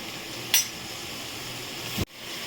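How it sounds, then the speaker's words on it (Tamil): Steady sizzling hiss of onions sautéing in a pan, with a brief clatter near the start and a sharp knock before the sizzle suddenly drops. "வெங்காயத்தை சேர்த்து நல்லா வதக்கிக்கோங்க"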